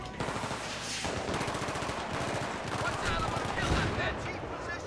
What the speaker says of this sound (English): So there's an MG nest right there.